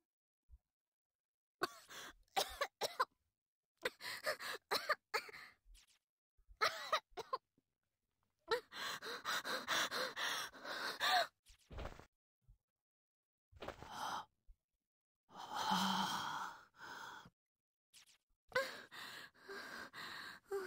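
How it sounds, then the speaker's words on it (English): Odd breathing, sighing and gasping effects from a CPR scene in the horror video game Corpse Party, coming in short separated bursts with silent gaps between them, fairly quiet overall. "This is the weirdest CPR I've ever heard."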